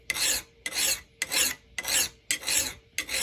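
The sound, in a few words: filing the edge of a hatchet head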